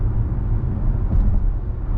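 Steady low road rumble from a Mazda CX-50 crossover on the move, heard from inside the cabin as a continuous engine and tyre drone with no talk over it.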